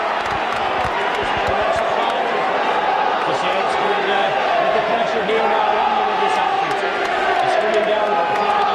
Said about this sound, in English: The St Helens crowd getting behind their side.